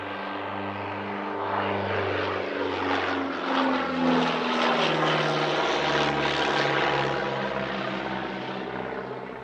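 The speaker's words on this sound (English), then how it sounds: "it's Stu Blanchard in his wonderful Miles Gemini" A Miles Gemini twin-engine propeller aircraft flying a display at an airshow, its loud droning engines passing close with shifting pitch, a continuous roar rising and then easing away.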